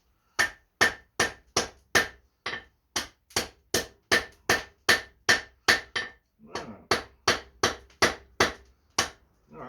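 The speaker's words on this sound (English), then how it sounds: "Nice light blows at temperature. You don't need to go and hit it like a madman." Hammer blows forge welding hot steel coated in flux: a steady run of about twenty-five sharp, ringing strikes at an even, fairly quick rhythm, close and loud, with a brief pause midway and no talking.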